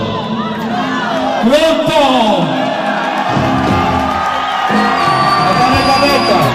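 Live concert crowd in Italy cheering and whooping loudly, a sustained roar of voices with shouts rising over it throughout, dense and close.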